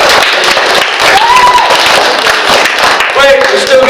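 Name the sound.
audience applause at a library magic show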